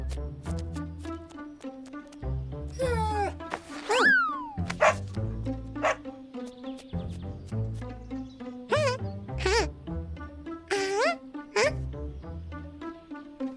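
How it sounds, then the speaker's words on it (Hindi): A cartoon dog barks and yips repeatedly while playing, with short bright barks and whines scattered through a light animated soundtrack, close and lively, with no speech. "और टॉमी भी, वो कुत्ते के साथ खेल रहा है"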